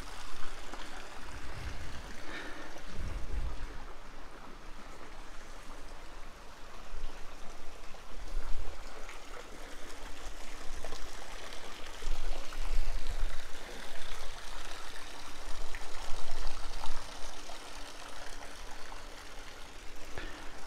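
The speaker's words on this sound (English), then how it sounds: "You get to hear the water from the pool." Water from a backyard pool runs in a continuous, soft trickling wash, heard steadily from a balcony at moderate distance with no voices.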